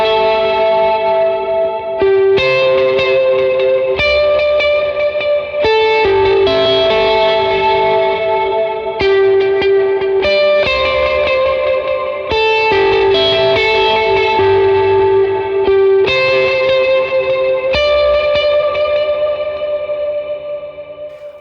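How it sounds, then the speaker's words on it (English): Electric guitar through a Case Study studio compressor pedal with reverb, playing ringing chords and single notes, evenly squashed and sustained, with a reverberant tail washing behind each strum; no voices. "it's just the studio compressor kind of driving the signal and compressing the signal"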